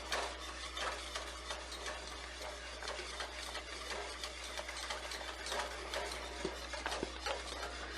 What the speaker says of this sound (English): the secret to it is just to stand here and stir